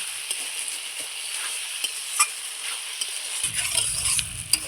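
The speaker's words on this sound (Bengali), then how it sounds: "ঘিটা দিয়ে একটু নাড়চাড় করে নেব।" Potato and pointed gourd curry being stirred with ghee in a pan, a steady close sizzle with scraping spoon strokes throughout, a low rumble joining near the end.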